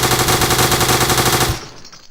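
A Lewis gun in Garry's Mod, a Half-Life 2 game, fires one loud, rapid, unbroken burst for about a second and a half, then the shots stop and a short echoing tail fades away.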